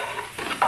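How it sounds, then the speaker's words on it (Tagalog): Sliced onion and garlic sauté in a little used oil in a pan while tofu is prepared, giving a soft, steady sizzle with faint stirring scrapes, close and brief, ending on a small clink. "Magigisa tayo ng sibuyas."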